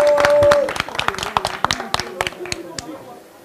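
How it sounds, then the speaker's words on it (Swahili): An audience claps for Berkane, a burst of scattered hand claps that thins into separate claps and fades over a few seconds, with a voice briefly over the start. "Tumpigie makofi Berkane."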